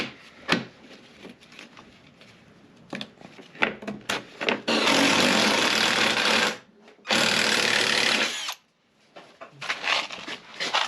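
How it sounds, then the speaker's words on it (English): Power drill boring holes for self-tapping bolts in a Jeep TJ fender, with short bursts, then a long steady whine lasting several seconds, a pause, and another sustained run, loud and close. "And now I've got to drill out all the holes for the self-tappers that are about to go in"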